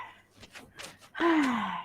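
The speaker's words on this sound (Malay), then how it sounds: "cikgu ambil nafas sikit" A teacher draws a sharp, audible breath during a Malay-language SPM tutoring class, a single loud gasp-like inhale close to the mic following a few quieter breathy sounds.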